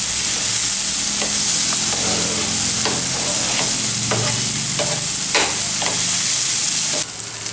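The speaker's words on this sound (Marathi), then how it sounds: "आता याच्यानंतर आपण हे पातीचा कांदा टाकतोय तरी जरासा छान परतून घ्यायचा" Spring onions stir-fried on a hot tawa for a tawa fry, with a constant loud sizzle broken by repeated scraping strokes of the spatula, close and with no speech.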